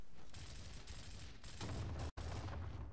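Gunfire in the video game Gears of War, a steady dense barrage of shots with heavy low thumps that runs continuously, broken only by a brief dropout near the end.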